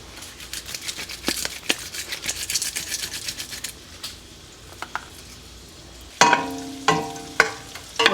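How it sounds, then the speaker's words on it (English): Onions and bacon cooking in a skillet on medium-high heat, a busy scraping and sizzling texture with rapid stirring strokes, followed by several louder clattering scrapes near the end, all close up. "We have our skillet on medium-high heat to get these onions cooked."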